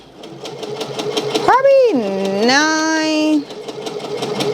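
Embroidery machine stitching an appliqué on a sweatshirt: steady rapid mechanical ticking with a low hum throughout, close, while a person speaks over it briefly.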